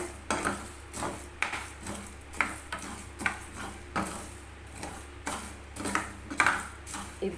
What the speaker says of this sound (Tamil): கொஞ்சம் நல்லா பொன்னிறமாக வறுத்து எடுத்துக்கோங்க